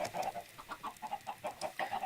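Chickens in a Minecraft chicken farm give a quick run of soft, rhythmic clucks, faint and evenly spaced, with no talking.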